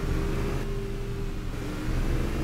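A car engine in the video game Just Cause revs at a steady mid pitch, a continuous loud drone with a rumbling low end and no voices over it.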